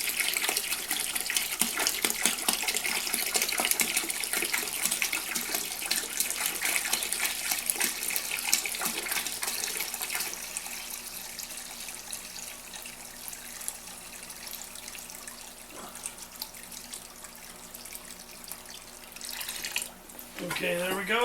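Water from a vending-machine jug pours steadily into a container for a homemade wine cooler, a close, continuous gushing splash lasting about twenty seconds with a brief surge near the end.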